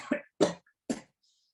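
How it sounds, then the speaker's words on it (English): Three short, dry coughs from a woman during a yoga breathing session, spaced a few tenths of a second apart, fairly close and quiet, with silence in between. "Sorry, cough."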